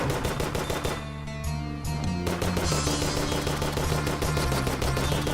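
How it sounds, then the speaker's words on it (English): Phoenix Blaster handgun in Terraria firing rapid repeated game shots, loud and continuous apart from a short pause, no talk. "This time I'm just going to melt him with a Phoenix Blaster."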